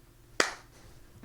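Two sharp, close hand claps about a second apart in a quiet room during a band podcast, with faint low background hum.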